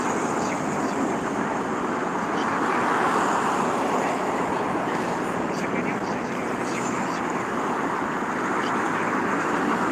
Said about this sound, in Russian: Смотрите, потоки машин какие у нас